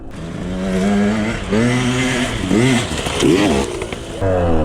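A KTM 125 enduro motorcycle rides off-road on a trail, its engine revving up and down repeatedly in close, loud bursts, with no talking.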